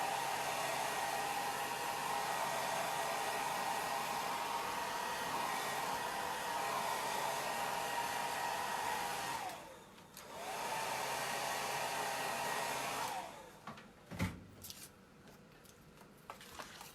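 A hair dryer drying paint on a fall pumpkin craft blows with a loud, steady whir for about nine seconds, cuts out briefly, runs again, then stops and leaves faint handling noises.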